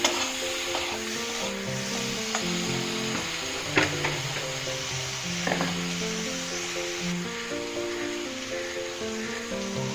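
Malabar spinach seasoned with salt and turmeric fries and sizzles steadily in a pan while being stirred, with scattered scrapes and clinks of the utensil throughout; no talking.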